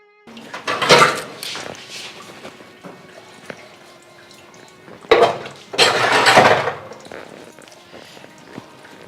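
Dishes, pots and cutlery clatter and clank during washing in a household kitchen, with two loud bursts of clinking separated by quieter scattered knocks and drips.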